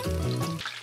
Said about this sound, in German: Und zwar in einer Pfanne mit heißem Rapsöl, bis sie rundum goldbraun und knusprig sind.